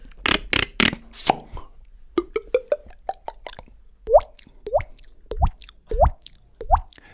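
A mouth imitates a falling water drop: a run of hollow tongue pops and clicks, then several distinct, resonant plop sounds spaced about a second apart, close and fairly loud, with no talk.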